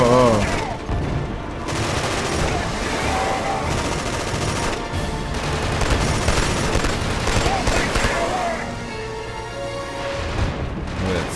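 Loud, dense gunfire in the video game Killzone 2, sustained rapid bursts and booms filling the whole stretch, with a voice briefly talking underneath.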